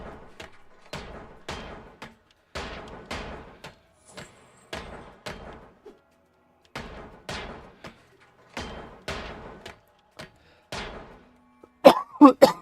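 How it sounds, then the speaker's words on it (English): A series of short, sharp coughs repeats in bursts, some in quick pairs and triples, fairly close, with brief silences between and a louder cluster at the end. "Sorry about the cough."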